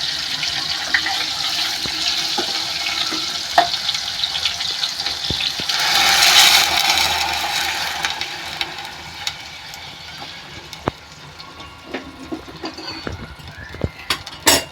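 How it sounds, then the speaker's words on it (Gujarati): Hot water pours into a pan of tempered mustard seeds, cumin, cloves, asafoetida and curry leaves for puri bhaji, a close, steady gushing splash that swells around the middle and then settles into quieter bubbling with small clinks. "હવે આપણે એમાં ગરમ પાણી નાખીશું"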